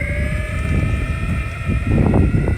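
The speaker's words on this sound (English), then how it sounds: "That's full throttle." An electric skateboard ridden at full throttle in pro mode gives a steady electric motor whine with harmonic tones and strong rumbling wind noise throughout, rising slightly toward the end.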